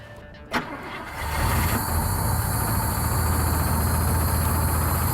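An old wagon car engine in cold winter conditions cranks with a sharp click and catches on the first key turn, then settles into a loud, steady, rough idle that continues to the end.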